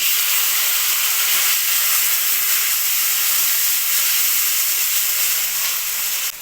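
Slit green chillies and chopped tomatoes fry in hot oil, giving a steady, loud, close hiss and sizzle that continues evenly with no talk.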